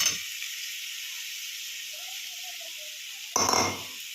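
Marinated mushrooms land in a pan of well-cooked masala: a steady soft hiss, then a sudden louder burst of sizzling that fades over about a second, with no one talking.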